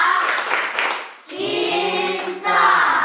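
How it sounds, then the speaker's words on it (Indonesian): A class of schoolchildren claps for a group in a classroom, first in a burst of rapid claps, then after a brief lull in rhythmic patterned clapping mixed with children's voices. "Ya, tepuk tangan buat kelompok 1 ini"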